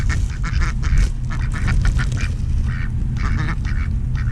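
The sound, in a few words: birds at a lake being fed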